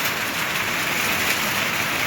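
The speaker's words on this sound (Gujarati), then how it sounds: "વરસાદ ચાલુ થઈ ગયો છે" Rain falls steadily over a broad, even hiss that holds at a constant level for about two seconds, with no voices.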